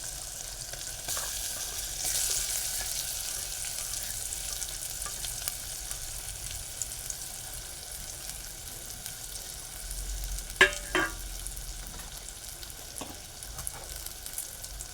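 Mashed amla fries in a hot tempering for dal, giving a soft steady sizzle with occasional stirring clinks and scrapes close by, and no talking.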